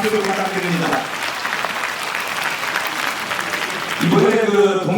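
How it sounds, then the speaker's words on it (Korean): An audience at a Korean speech contest applauds warmly in a steady, dense burst of clapping, with a speaking voice heard briefly at the start and again at the end. "우리 다 같이 뜨거운 박수를 부탁드립니다."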